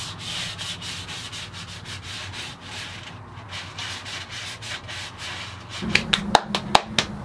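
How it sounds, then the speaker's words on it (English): Hand sanding with a round sanding block over the wooden kerfing and side braces of an acoustic guitar under construction: steady rhythmic rubbing strokes, close and continuous, with a few sharper taps near the end. "I'm using a round sanding block to get in there and sand everything nice and smooth"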